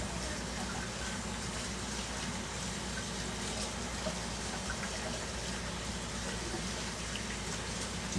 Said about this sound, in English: Just gonna rinse off my cutting board real quick.